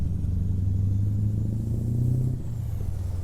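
A Mack Ultraliner truck drives smoothly in American Truck Simulator, its engine a steady low rumble that swells slightly before easing off, with no talking.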